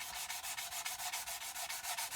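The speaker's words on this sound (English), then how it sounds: "I don't just want to keep sanding because I might end up with a kind of, you know, a curved up belly." Rhythmic back-and-forth sanding of plastic card on a model kit, about a dozen even rasping strokes in quick succession, close and steady with no voices.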